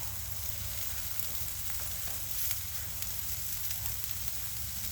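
Onions and mushrooms sizzle on a Blackstone griddle, a steady, even crackle and hiss that carries on unbroken without pause or talk.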